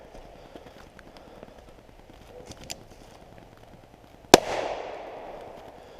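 An 1873 Uberti Cattleman revolver in .45 Colt fires a single sharp, loud shot that rings out with a short decaying echo, after several seconds of quiet outdoor ambience with faint light taps.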